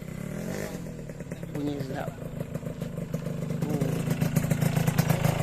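Close-up motorcycle engine with a choppy idle throb, revs lifting and swelling louder toward the end, with brief speech mixed in.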